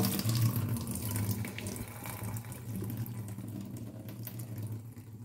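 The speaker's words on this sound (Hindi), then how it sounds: "चलो हम इसका पानी अब फेंक देते हैं।" Soaking water from a kitchen preparation is poured out into a sink, a steady close splashing and running water stream that continues for several seconds with no talk.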